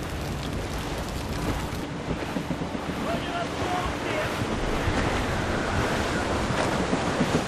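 Strong wind and rolling sea waves in an Assassin's Creed Rogue sailing scene, a dense, loud, steady roar of rushing air and surf that holds for the whole stretch, with no speech.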